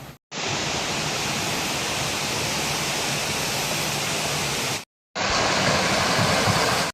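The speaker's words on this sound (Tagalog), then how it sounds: "nakarating na kami dito sa kanilang mini waterfalls." A mini waterfall at Marilaque camp gives a loud, steady hiss of rushing water, close and constant, briefly cut to silence twice.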